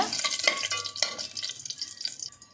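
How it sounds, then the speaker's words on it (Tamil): Cinnamon sticks, cloves, cardamom and bay leaves are sautéed in a pan for mutton biryani, giving a close, soft sizzle with scraping stir strokes throughout. "நல்லா ஸ்மெல் வர வரைக்கும் நல்லா வதக்கி விடுங்க."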